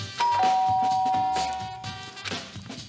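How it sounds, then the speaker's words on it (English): A two-tone ding-dong doorbell chime rings once in the video game Danganronpa, clear and loud against the game's background music. "I pressed the doorbell."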